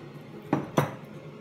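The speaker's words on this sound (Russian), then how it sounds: "Опускаем туда картофель. Засыпаем картошку." Potatoes tipped into a pot of boiled meat for a mixed-meat solyanka, producing two short, close splashy clatters about a quarter second apart over a quiet kitchen background.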